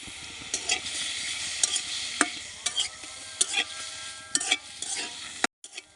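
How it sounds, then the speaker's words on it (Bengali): Fish fat melting and frying in a wok while being stirred, a continuous bright sizzle broken by repeated scraping strokes of a spatula, close and loud. "আস্তে আস্তে নাড়া দিলে দেখবেন তেলগুলো গলে যাচ্ছে"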